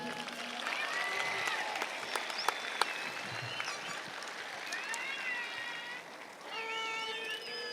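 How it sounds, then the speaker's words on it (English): Applause for the choir at a high school commencement ceremony: a large crowd claps steadily in a broad, sustained wash, with whoops and scattered voices rising over it and music returning near the end. "Big applause for the choir, please."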